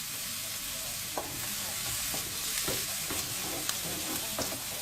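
Cauliflower browns in butter and a little oil in a pan over very low heat, a steady soft sizzle and crackle with occasional faint stirring clicks, close and fairly quiet throughout.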